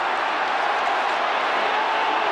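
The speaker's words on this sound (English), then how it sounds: "Capacity crowd." Capacity crowd at the 1989 AFL Grand Final between Hawthorn and Geelong, a steady dense roar of many voices filling the stadium, continuous and even throughout with no distinct words.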